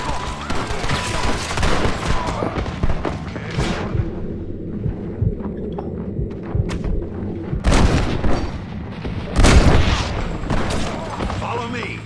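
A Red Dead Redemption shootout near caves has repeated loud gunshots and booming bursts in clusters, with louder volleys toward the end, while characters talk over the fighting.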